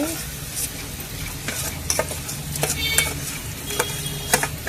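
Crab curry with softened, cooked onions is stirred in a hot pan, the spoon scraping and clinking steadily over a constant close sizzle.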